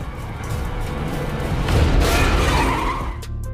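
A car loses control and flips over in a film scene: sustained loud skidding and tire noise swell into a heavy rumbling crash, then the sound cuts off abruptly.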